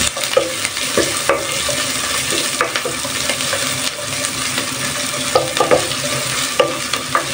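Garlic and onion sautéing in a pan for chicken nilaga, a loud, steady close sizzle broken by repeated spatula scrapes and taps against the metal, with no voices.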